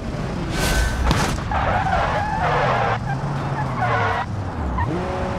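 Tires of a car in the BeamNG driving game squeal in wavering skids while drifting, over a continuous engine drone, with several drawn-out screeches in a row.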